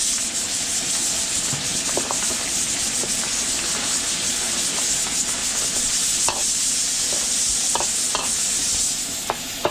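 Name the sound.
garlic and onion sautéing in a pan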